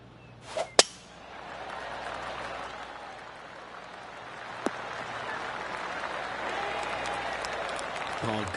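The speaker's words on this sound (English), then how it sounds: "Oh, golf clap." Golf gallery applause in the video game PGA Tour 2K23: a sharp crack at the start, then a steady, moderately loud wash of polite clapping from a crowd that holds through the whole stretch.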